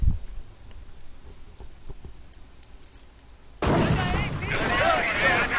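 A Nebelwerfer rocket artillery barrage in Company of Heroes starts partway through, a sudden dense burst of whooshing rockets and explosions. It follows a stretch of quieter battlefield clicks and distant gunfire and runs loud to the end.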